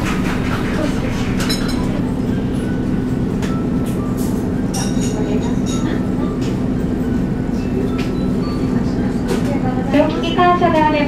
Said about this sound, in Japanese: ゆっくり発車しております